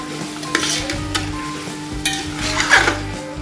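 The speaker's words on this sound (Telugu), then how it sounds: "మటన్ దీంట్లో వేసేసుకున్నాం కదా, అది కూడా కాస్త ఉల్లిపాయల్లో ఫ్రై అవనిద్దాము" Mutton frying with onions in a pot for mutton white pulav, a loud, close, continuous sizzle with intermittent scraping stirs of the spoon against the pot, no voices.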